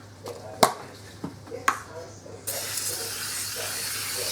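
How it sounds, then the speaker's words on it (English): Oil sprayed from a spray bottle over pieces of roast pork in a kitchen: a steady, close hiss that starts abruptly and runs on, following a few sharp knocks and handling sounds. "Just going to give them a spray so that there's oil on the top so they don't get dry."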